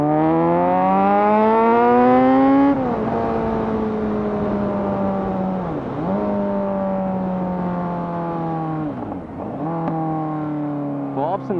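Kawasaki Z900 with a full SC Project exhaust system revving hard, its engine note climbing and dropping through several sharp throttle blips with pops and crackles on the overrun, loud and close with no talk.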